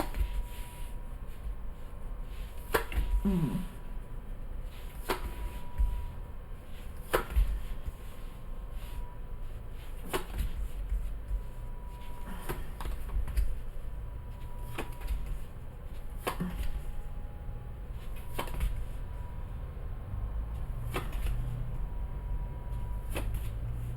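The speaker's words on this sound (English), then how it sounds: "And let's cut the cards." Tarot cards are cut and shuffled in a quiet room, giving faint, sharp taps and soft riffling clicks that recur at irregular intervals over a low, steady background hush.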